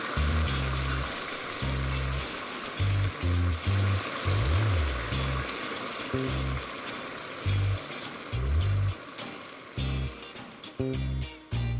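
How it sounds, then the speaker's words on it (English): A deep pan holding 14 pounds of vegetable oil sizzles and hisses steadily while deep frying a turkey, loud and close, while deep background music plays with no talk. "Move on to frying. Do it in a deep pan, where you can fit in 14 pounds of vegetable oil."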